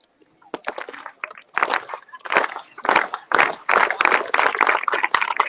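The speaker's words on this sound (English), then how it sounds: "We're going to build up and then do one final clap out at the end." A crowd at a Charter Day event at a state capitol claps in a rhythmic build-up, bursts of hand claps speeding up and growing louder into a sustained final clap out, starting from near silence.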